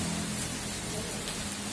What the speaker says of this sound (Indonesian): soalnya ini hujan